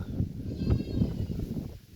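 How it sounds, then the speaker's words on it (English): Goats bleat in a hillside village in Johnson Town, St. Thomas, Jamaica, with a few short calls close by over a bed of steady rural background noise. "Yeah, some goat over here, some peeps."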